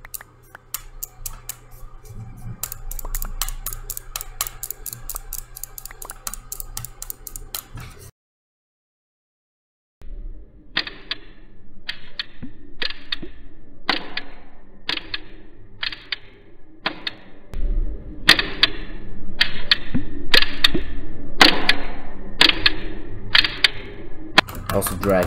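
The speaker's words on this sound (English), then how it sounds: "Also drag clicking." Rapid bursts of mouse drag clicking during a Minecraft Bedwars match, dense crackly click trains in a fast steady rhythm, broken by a short silence, then continuing in clustered bursts over in-game sounds and talk.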